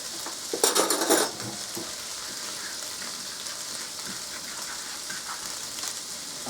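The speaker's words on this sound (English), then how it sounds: "Give it a bit of a mix." Food is stirred in a frying pan while cooking liver and bacon with onions. A brief burst of scraping and clattering comes early, then a soft, steady sizzle continues close by without any talking.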